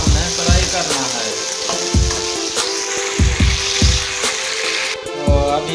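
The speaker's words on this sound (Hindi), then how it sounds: "अभी हम इसके अंदर काट के अरबी ऐड कर देंगे। हमने इसको फ्राई कर लेना है घी के अंदर।" Cut taro root (arbi) fries in hot ghee, a steady close sizzle running throughout, broken by repeated low thumps and scrapes as the pieces are turned in the pan.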